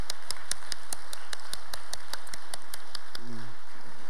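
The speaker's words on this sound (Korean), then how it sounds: "자, 우리 박수 올리겠습니다." A church congregation at a Sunday service claps to welcome new members: a few sharp, evenly spaced claps near the front over a soft bed of scattered hand noise, then a brief low voice at the end.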